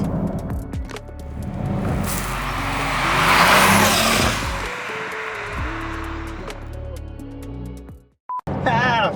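A Bugatti Veyron 16.4 hypercar accelerates hard with a rising, shifting engine roar and rushing wind that swells to a peak and then eases off, ending in a brief cutout and clatter.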